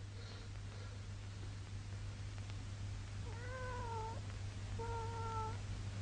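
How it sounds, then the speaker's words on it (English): A cat meows outside wanting to come in, two or three drawn-out calls heard at a distance over a steady low hum. "There's a cat wants to come in again."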